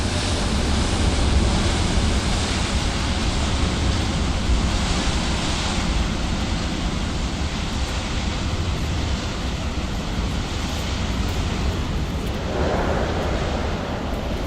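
Strong steady wind in Microsoft Flight Simulator 2020 roars continuously, a broad rushing noise without pause, loud and unbroken throughout.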